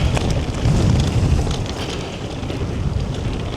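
Strong wind buffets the microphone in a continuous rumbling roar during an electric mountain bike ride at The Golfie, Caberston, in the Tweed Valley, loud and unbroken throughout.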